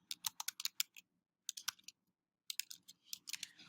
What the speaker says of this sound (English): we can type in the title of that publication